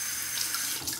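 A razor rinsed under a running tap, steady close splashing water from the faucet throughout, with no voices.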